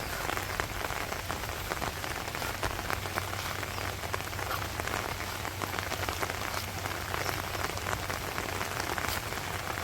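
Heavy rain pours steadily on a village in Bangladesh during the rainy season, a dense, even hiss of drops striking surfaces, loud and unbroken with no voices.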